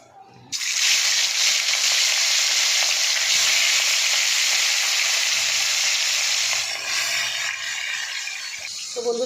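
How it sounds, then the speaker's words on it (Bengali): Fish fries in hot oil in a home kitchen: a loud, steady hiss and crackle bursts in after a brief quiet start and holds evenly before easing slightly near the end. "মাছ ভাজা হয়ে গেছে"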